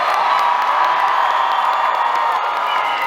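Crowd cheering and whooping at a Halloween Horror Nights panel, a dense, loud, steady roar of voices that holds without a break.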